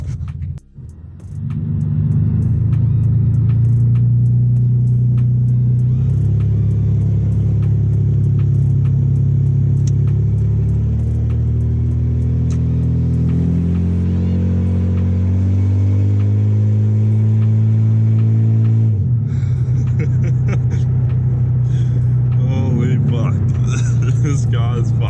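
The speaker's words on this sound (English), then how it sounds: "The car is currently straight piped, so it sounds like a fucking lawnmower" A straight-piped Ford AU's engine revs loud and close through its exhaust, a continuous raspy drone with swelling and falling pitch that eases off briefly near the end before picking back up.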